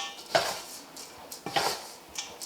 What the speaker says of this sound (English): we're going to keep stirring until this is all mixed together evenly